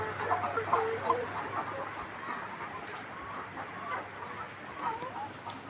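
Soft clucking and murmuring from several laying hens in severe heat, a steady low background of poultry sounds with a faint constant hum underneath.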